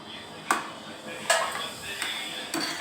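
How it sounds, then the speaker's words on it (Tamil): A sweet mixture stirred in a pan gives four distinct metallic clinks of the utensil striking the pan, spaced unevenly over a soft, constant background hiss. "இப்போ நல்லா கிளறி விட்டுக்குவோம்."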